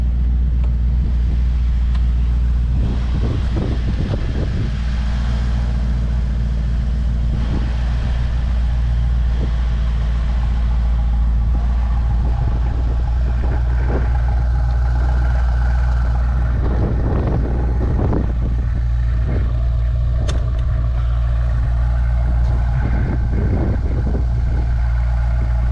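A 2021 Mercedes-Benz E63 S AMG Wagon idles after a cold start, a deep steady engine rumble held close and loud throughout with a few faint clicks and knocks over it, and no speech.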